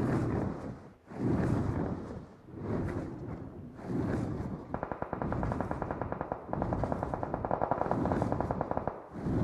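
Automatic weapons fire in a mobile shooter game played on an iPad Pro, with loud repeated bursts of rapid shots separated by short pauses and a steady rattling stretch in the middle, and no voices.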